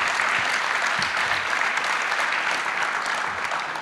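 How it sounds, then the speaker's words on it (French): Audience applause at a talk on managing success in team sports, an even, sustained wash of clapping from a seated crowd, steady in loudness throughout with no voices standing out. "encore un applaudissement"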